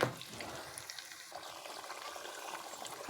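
Mint and tomato paste frying in oil in a pan gives a soft, continuous sizzle and bubbling crackle, faint and close, with no voices over it.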